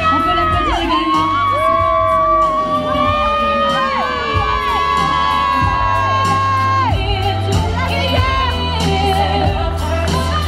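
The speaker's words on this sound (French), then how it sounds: "On peut l'applaudir également." At the Miss Île-de-France 2020 regional pageant, an audience cheers loudly, with whoops and shouts ringing out over a dense, steady crowd roar that carries throughout.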